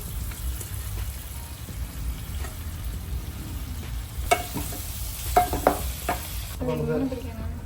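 Washed rice with turmeric and coriander powder is stirred in a pot over a soft, steady sizzle, with a few distinct scraping clicks from the utensil near the end.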